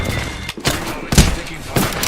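Video game gunfire, a few sharp separate shots spaced across two seconds, loud and close, over a low background rumble.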